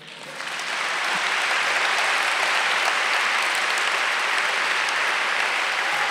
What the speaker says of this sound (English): Loud applause will be appropriate here.